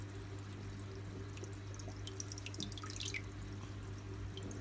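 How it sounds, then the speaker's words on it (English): Small pond pump circulating water in a home fish room, giving a steady trickle and drip of moving water over a constant low hum, close and even throughout. "There's just a pond pump in there."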